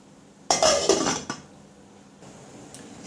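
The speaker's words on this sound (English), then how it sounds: "I'm putting these in the pot to cook." Salt mackerel being put into a cooking pot: a sudden cluster of metallic clanks and clinks, then a fainter knock, before the clatter dies away into near quiet.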